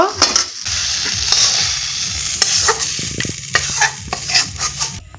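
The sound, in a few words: potato filling stirred and cooked in a pan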